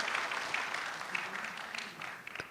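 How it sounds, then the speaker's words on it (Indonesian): Applause from a stand-up comedy competition audience, a steady patter of many hands clapping at moderate volume, tapering slightly toward the end. "tepuk tangan"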